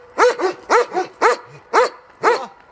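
Several loud, close dog barks ring out in a brisk, uneven rhythm, a few doubled into quick pairs, with short silences separating the bursts.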